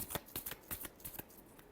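Tarot cards being shuffled in a quick burst of crisp riffling flicks, close and fairly quiet, about eight rapid snaps over under two seconds.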